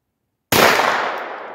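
A single sharp pistol shot, fired with a condom brace stock at a 75-yard range, cracks after a moment of silence and then fades away in a short outdoor decay.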